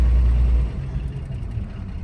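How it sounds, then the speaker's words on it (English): A long-idle 1951 Chevy car's engine gives a brief deep rumbling groan that drops off after a moment, leaving a lower steady mechanical murmur. "Car's definitely moaning and groaning like it hasn't fucking been driven."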